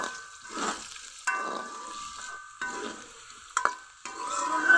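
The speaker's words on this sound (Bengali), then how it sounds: "গাজর আলু গাজর হালকা ভাজা ভাজা করে নিব" Potato and carrot pieces frying lightly in a pan, a soft sizzle broken by several stirring scrapes and clinks of the spatula, close and fairly quiet with no talk.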